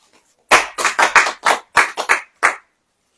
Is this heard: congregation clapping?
yes